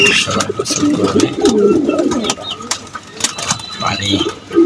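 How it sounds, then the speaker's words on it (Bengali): Pigeons from a loft's flying zone cooing while being given a bath in potassium permanganate water, repeated soft coos with splashing and someone talking over them. "এগুলা ফ্লাইং জোনের কবুতরগুলোর গোসল দিতেছি"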